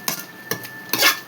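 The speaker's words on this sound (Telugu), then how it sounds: "తాలింపు ఇంకో గిన్నెలో వేసుకుందాం" Metal utensils and bowls clank three times in short, sharp knocks while a tempering of spices is moved into another bowl in a home kitchen, close and fairly loud, with no talking.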